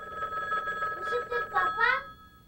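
Telephone ringing in a home, repeated trilling bursts mixed with a voice calling out, close and moderately loud over a short span.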